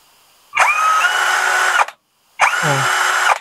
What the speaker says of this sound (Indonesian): Sekarang kita coba di bor dinamo brushless.